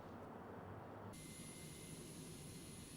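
Ryan XV-5A jet fan VTOL aircraft, twin turbojets driving large wing fans, giving a steady loud roaring rush with a high whine that sharpens partway through, continuous throughout with no voices.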